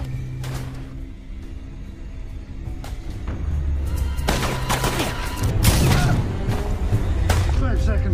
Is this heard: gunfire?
yes